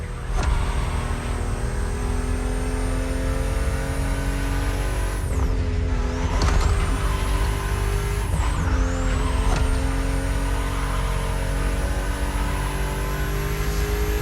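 A BMW M 3.0 CSL, the 50th-anniversary CSL, drives in The Crew Motorfest, its engine holding a steady loud drone with two sharp gear-shift dips mid-run before it climbs again, tires hissing underneath.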